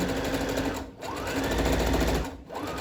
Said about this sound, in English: put your presser foot back down, and then sew all the way down